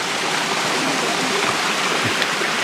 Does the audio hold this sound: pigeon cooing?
no